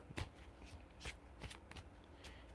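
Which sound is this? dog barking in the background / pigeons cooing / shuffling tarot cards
shuffling tarot cards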